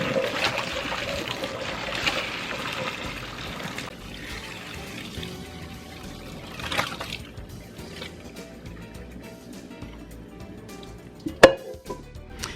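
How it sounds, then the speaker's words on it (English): Water drains from a pot of cooked lasagna noodles, a soft pouring and trickling under light kitchen clatter, with a sharp clink of a pot or pan near the end. "go ahead and drain that water."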